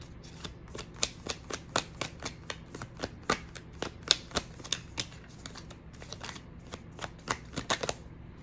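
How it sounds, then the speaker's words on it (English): Thick tarot cards being shuffled in a steady run of crisp riffling snaps, close and fairly quiet, with no talking. "These cards are so thick. They're kind of hard to shuffle."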